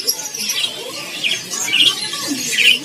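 A local canary sings in a bird kiosk at Pasar Pramuka market, giving a steady stream of bright, high chirps and trills at moderate loudness with faint background bustle.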